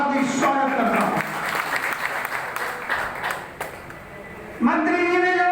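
Applause from a bar association gathering of lawyers welcoming a state minister, a steady clapping crowd lasting several seconds, with speech heard at the start and end.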